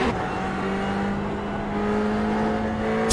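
A vintage Ferrari race car in a sim-racing game at Summit Point holds a steady, sustained engine drone at constant pitch, with no sharp revs or passes.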